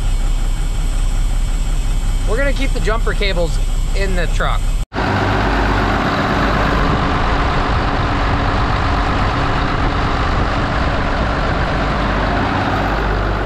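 A Mack R model diesel truck engine idles steadily with a low rumble throughout, someone speaking briefly over it at the start before a short cut.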